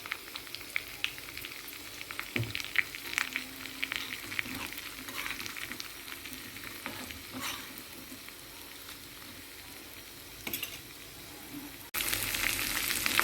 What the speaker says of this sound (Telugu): ఇలాగ కొంచెం కరివేపాకేయండి అలాగే ఇంగువ